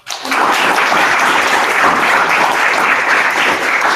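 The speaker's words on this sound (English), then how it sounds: "round of applause for Taylor" A large group breaks into a loud, continuous wash of applause that begins abruptly and holds steady for about four seconds.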